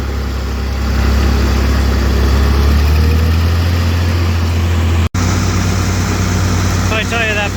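A light tractor with no fluid in its tires and no weights, its engine running with a steady low rumble close by, used during corn silage work; a person talks over the noise and a brief cutout interrupts it midway.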